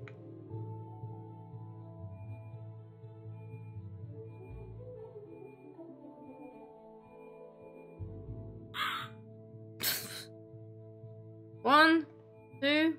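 A crow caws several times in the video game Cube Escape: Theatre, with short harsh calls in the second half rising over a quiet, droning musical background.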